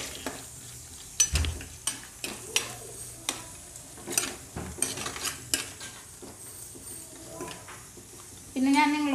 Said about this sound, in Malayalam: ഈ ചതച്ച് വെച്ച ഇഞ്ചി വെളുത്തുള്ളി ചുവന്നുള്ളി കാന്താരി മുളക് വേപ്പില ഇത്രയും സാധനങ്ങൾ നമുക്ക് ഇതിലോട്ടിട്ട് ഒന്ന് വഴറ്റി കൊടുക്കാം